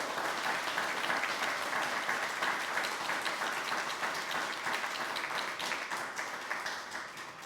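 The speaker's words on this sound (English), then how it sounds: "I want you to honor her today with a round of applause" Sustained applause from a crowd at a faculty and staff service recognition ceremony honoring a retiring staff member, dense steady clapping that fades slightly toward the end.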